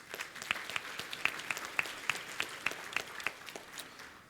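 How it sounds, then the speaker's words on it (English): Audience applause for a panelist at a mental health summit panel, a steady patter of clapping with sharp individual claps standing out, moderately distant and continuing without voices. "Give him a round of applause."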